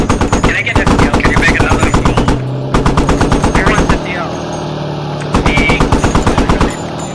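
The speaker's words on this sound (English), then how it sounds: "That enemy Vic is accurate on the rifle fire." Enemy vehicle rifle fire in the video game Squad, loud rapid automatic bursts in three long strings separated by short pauses, close and sharp over a constant background rumble.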